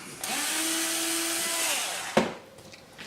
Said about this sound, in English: drill through the wood